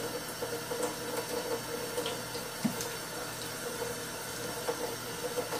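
Water runs steadily from a tap into a sink while a scrub brush cleans dried dough from a breadmaker pan, a soft, even wash with faint scraping ticks scattered throughout.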